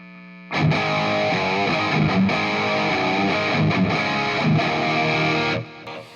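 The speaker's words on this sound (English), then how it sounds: "I'm gonna take that gain to 10, and listen to how much muddier it gets" A Marshall AFD100 guitar amp with Slash Pro pickups, gain turned to 10, plays heavily distorted electric guitar chords and riffs that ring out loud and continuous for about five seconds before cutting off.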